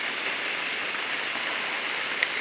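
Steady rain pours down in an even, continuous hiss after weeks of nonstop rain, with no voices or other clear sounds.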